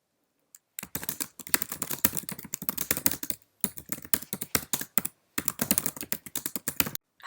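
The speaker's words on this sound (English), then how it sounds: "I'm going to type in a description for my" Typing on a computer keyboard, bursts of rapid plastic key clicks in uneven runs with short pauses between, close and clear with no talking.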